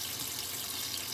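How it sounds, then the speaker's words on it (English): Water runs steadily from a tap over a cleaning cloth, a constant rushing hiss that fills the whole moment with no talk over it. "I'm going to wet my environmental cloth down, and I'm only using water."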